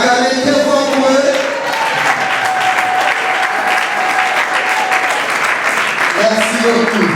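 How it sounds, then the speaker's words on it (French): Sustained audience applause at a conference in Kinshasa, a loud, dense wash of clapping from a crowd that holds steady throughout, with a voice speaking over it near the start and end. "Acclamez très fort pour eux."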